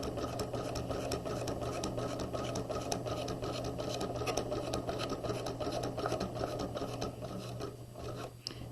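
Domestic sewing machine stitching steadily across the bottom of a quarter zip jacket pocket, a dense, continuous mechanical whir with rapid needle ticks, close and even throughout, slowing slightly at the end.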